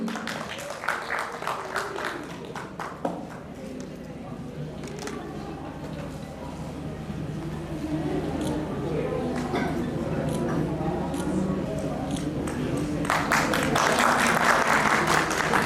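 An audience at a Women's Day honour ceremony applauds honorees, steady crowd clapping that swells louder toward the end while someone speaks over a microphone.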